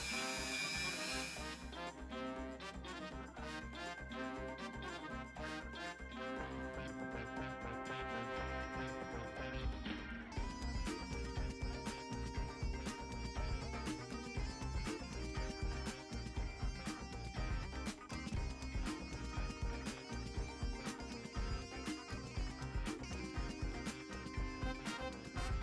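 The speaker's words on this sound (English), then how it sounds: "just for a change, I thought I'd use some buffing compound" A cast ring is buffed with buffing compound on a motor-driven wheel, giving a continuous loud whirring drone with a dense, rough grinding texture that shifts in tone partway through, close and steady with no voices.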